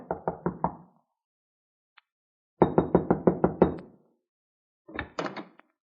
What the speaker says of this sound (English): I tried the door, but it was locked, so there was nothing for me to do except knock.